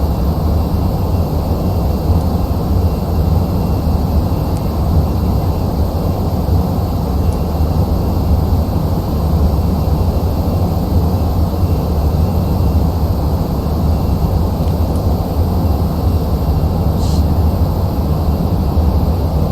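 An Airbus A321 climbs in the Prepar3D V5 flight simulator, a dense, steady engine roar heard from the cabin that stays constant and loud throughout with no talk.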